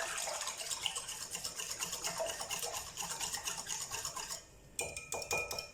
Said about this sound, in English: So here's another opportunity for my whisk.